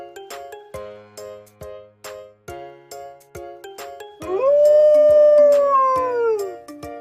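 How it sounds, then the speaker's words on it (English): A pack of wolves howls in a loud, sustained, rising and falling chorus over the second half, after a run of sharp chime-like tones at the start. "Listen to that sound. It's a pack of wolves."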